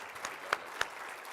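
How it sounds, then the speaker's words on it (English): Brief applause from the audience at an investors' luncheon after a panel discussion: a soft, steady patter of clapping with a few sharper claps standing out, heard at a moderate distance. "let's thank our panel with your applause"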